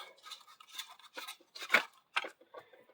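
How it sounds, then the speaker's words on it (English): A wrench tightening a nut on a goose neck floor lamp makes a short series of close metallic clicks and scrapes, several quick bursts over about three seconds. "and a wrench to get it down nice and snug"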